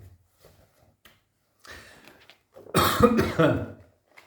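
A few faint throat sounds, then a loud close-up fit of coughing, several harsh coughs in quick succession.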